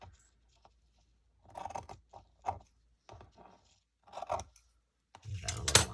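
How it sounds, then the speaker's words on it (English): Scissors snip through fabric scraps while making sample cards, several short crisp cutting bursts separated by pauses, with a louder rustling burst at the end. "Okay, now I'm just going to cut."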